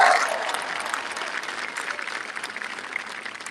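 A crowd at an outdoor political campaign rally in Arlington, Virginia applauds, loud at first and then slowly tapering into a thinner patter of clapping and cheers.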